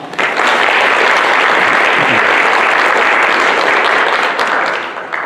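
An audience at an honor society induction ceremony gives the inductees a loud, sustained round of applause that fills the room, then tapers off near the end.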